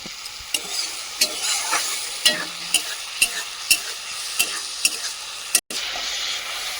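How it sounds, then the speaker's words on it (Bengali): Fish curry with tamarind pulp bubbles in a pan under a soft sizzle, while a spoon scrapes and stirs in a regular rhythm of about ten close, sharp strokes, with no voices. "এটা দিয়ে আরেকটুখানি ফুটিয়ে নেব।"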